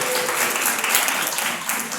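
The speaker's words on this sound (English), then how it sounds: "Give yourselves a round of applause." At a university chemistry science show in Durban, South Africa, the audience claps briefly, a dense burst of applause lasting about two seconds.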